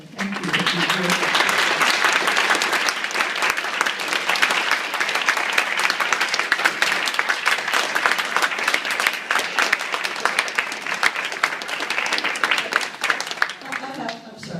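A party crowd gives long, loud applause, dense clapping carrying on steadily with voices mixed in beneath it.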